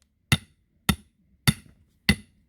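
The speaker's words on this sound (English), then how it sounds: "I put this in here, and then I go and hammer it in." A tensiometer is hammered into the soil with four sharp, evenly spaced strikes roughly half a second apart, close and loud, with quiet between them and no voices.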